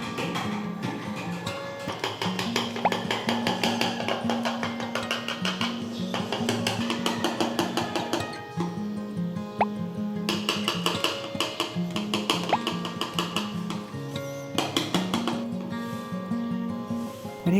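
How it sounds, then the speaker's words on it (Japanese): Cream being whipped to soft peaks for a no-bake mango float cake, a continuous busy whirring and rapid rhythmic ticking of a whisk or mixer in the bowl throughout. "これを6分立てくらいまで泡立てます。"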